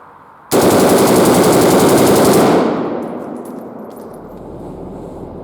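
An AKM rifle fires blanks in full auto, a very loud, nonstop burst of about two seconds outdoors, followed by a fading echo and quiet.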